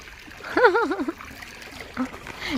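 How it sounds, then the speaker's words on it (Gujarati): Water running and splashing across a farm field, a steady wash of flow with voices rising over it near the start and again toward the end. "પાણી હજી ચાલુ છે"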